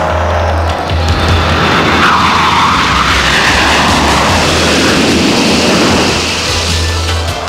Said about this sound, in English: This is what the two MiG-21s tried to do to Steve Ritchie.